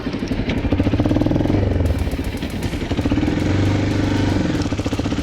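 A Viper motorcycle rides along forest trails, its engine running loud and close throughout with a steady, chugging throb and brief swells in revs.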